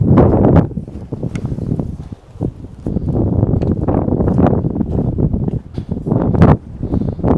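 Gusty storm wind at a tent campsite buffets the microphone, a loud low rumbling roar that surges and dips in uneven bursts throughout.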